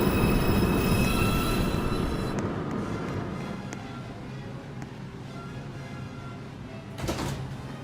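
A New York City 2 express subway train rolls into a station, loud wheel squeal and rumble fading as it slows, then settling into a lower hum with a brief burst near the end.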